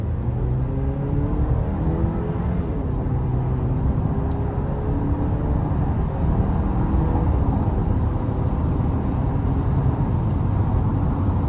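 A 2026 Chevrolet Traverse Z71 accelerates hard at full throttle, its engine rising in a steady, sustained drone with rolling low rumble and road noise heard from inside the cabin, no voices present.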